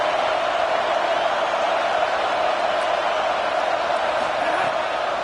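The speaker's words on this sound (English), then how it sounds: "this crowd trying to help keep them there" Stadium crowd noise in a college football video game, a constant loud roar of a packed crowd held at an even level throughout.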